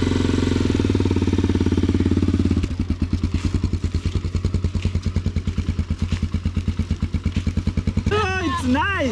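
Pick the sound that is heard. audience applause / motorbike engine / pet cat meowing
motorbike engine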